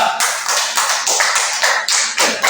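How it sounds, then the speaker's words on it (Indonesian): Students in a classroom clap for a group's project, close, loud claps with a few strong strikes standing out from the rest. "Kita beri tepuk tangan dulu untuk kelompok 2"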